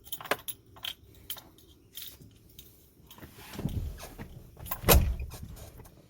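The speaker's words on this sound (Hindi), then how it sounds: "अब आप अपनी चाबी जो है वो डालें इसमें।" Keys jangle and click as a key goes into the ignition of a 1988 Mitsubishi Pajero Montero, a few metallic rattles and a firmer clunk near the end, close by with no talking.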